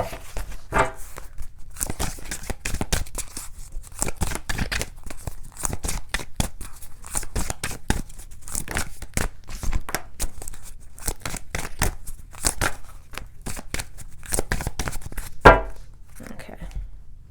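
A deck of oracle cards being shuffled by hand during a tarot reading, giving repeated crisp riffling and slapping bursts in steady rhythm, close and fairly quiet, with occasional soft speech.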